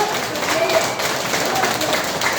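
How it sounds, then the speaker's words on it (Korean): Steady applause from the residents at a town briefing meeting in Jucheon-myeon, Namwon, a dense crowd clapping that lasts throughout with no breaks. "격려의 박수 한번"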